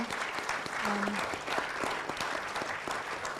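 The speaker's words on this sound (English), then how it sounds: "let's please give a warm round of applause to our panel" An audience at a corporate sustainability report launch applauds a panel, a dense, steady wash of clapping from a fairly large crowd, moderately distant and even in level throughout.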